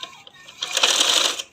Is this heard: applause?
no